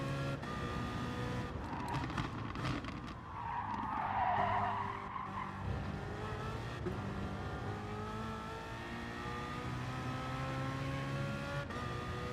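A GT3 race car in a driving game at Mount Panorama locks its rear wheel under braking into a chicane and spins, its tyres skidding and squealing over a steady engine drone that rises and falls.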